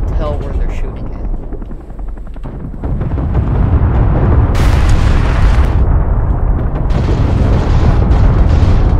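Explosions boom from missile strikes in the Call to Arms war video game, dense and loud throughout, layered with helicopter rotor drone and continuous battle rumble, with brighter blasts bursting in around the middle.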